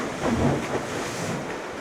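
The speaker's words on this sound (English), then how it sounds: "it's crashing a lot more than it was yesterday" Ocean waves crashing on the shore at Bar Harbor, a broad, steady wash of surf with a brief swell early on and wind buffeting the microphone, no talk.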